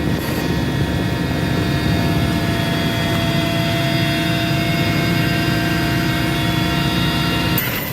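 Indonesian Air Force aircraft on standby for forest and land fire operations in Kalimantan, giving a steady, loud engine drone that holds evenly throughout, with no talk.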